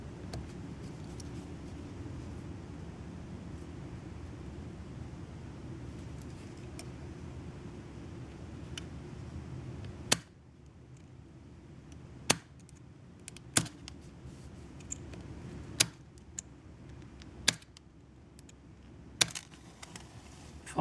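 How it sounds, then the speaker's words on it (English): A tiny ferrocerium rod is struck with a small Swiss Army knife to light puffed cotton tinder, giving several sharp, isolated scraping clicks spaced a second or two apart after a steady background hum drops away. "if all you had was this ferrocerium rod and a 58mm knife, if you could start a fire with some tinder"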